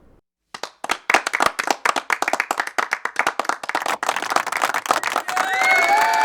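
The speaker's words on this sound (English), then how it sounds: "The slow clap goes to the Congressional Budget Office" A single person starts a slow clap that speeds up and swells into full crowd applause and cheering, loud and dense by the end.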